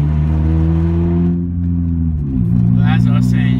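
Car with an eBay XTD aftermarket clutch accelerating from second into third gear on a wet road, its engine droning steadily, then the pitch sagging and climbing again as the slipping clutch finally grabs, with a person talking over it.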